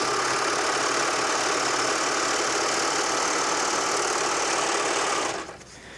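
A Baby Lock serger runs a sample seam with lofty decorative thread, a loud continuous rapid mechanical whir held steadily at close range, stopping abruptly near the end.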